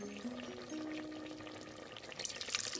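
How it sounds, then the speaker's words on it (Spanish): Cornstarch is spooned into a simmering seitan and mushroom stew and stirred, giving soft liquid churning and scraping close by, growing a little busier toward the end, with no talking. "Echamos la maicena y removemos."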